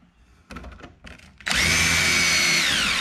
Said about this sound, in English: take a drill, pre-drill it.